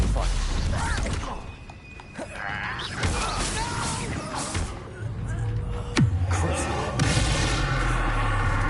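The Stupefy spell is cast in Hogwarts Legacy amid dense, loud combat effects: a booming magical blast with creaking, mechanical clatter and repeated impacts, continuous throughout and rumbling heavily underneath.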